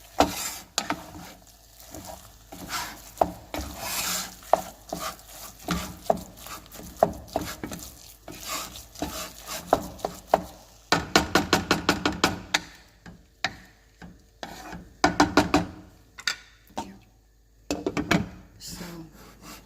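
Cooked rice being stirred in a pot, with scraping and knocking of a utensil against the pot, coming in irregular bursts and some quick rapid runs, fairly close, with faint background voice.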